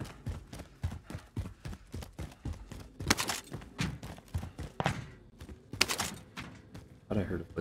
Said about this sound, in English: I heard a footstep there.